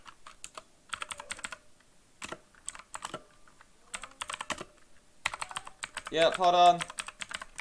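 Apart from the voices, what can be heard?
typing on a computer keyboard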